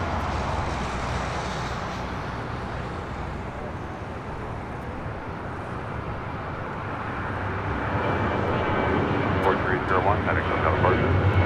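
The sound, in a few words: American Airlines Airbus A321 arriving from JFK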